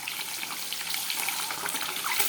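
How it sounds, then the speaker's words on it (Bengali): An egg frying in a pan gives a bright, even sizzle with a watery, hissing texture that holds steady and close throughout the short stretch, with no voices. "ডিমটা একটু ভেজে নেই"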